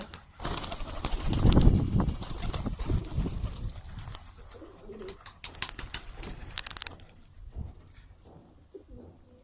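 Pet pigeons coo in low murmurs, with a louder burst early on and scattered rustles and possible brief wing flaps afterward.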